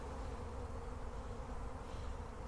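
Honeybees swarm and buzz steadily around an open hive during a spring honey flow, a dense continuous drone that stays close and constant with no voices.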